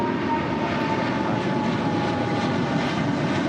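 A Boeing 777 jet rolls down the runway at LAX, its engines a steady, loud broadband roar that holds constant throughout with no voices.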